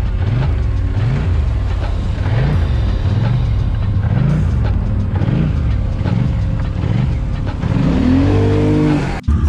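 A four-wheeler ATV engine revs hard and steadily while driving through water, rising and falling in loud repeated surges before a sharp higher rev near the end.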